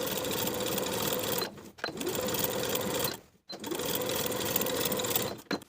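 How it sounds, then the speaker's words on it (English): A sewing machine runs steadily, understitching a curved pocket to its seam allowance at an eighth-inch seam, in close, even bursts separated by two brief pauses. "Sew the pocket to its seam allowance underneath with an 1/8 inch seam allowance."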